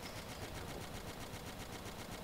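Distant rapid gunfire in the video game Battlefield 1942, a faint steady rattling stream of shots blended into constant background noise, with no talking.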